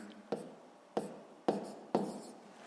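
A pen writes out a sixth-grade math solution on paper in four short, scratchy strokes with brief pauses between them, close by and with no voices.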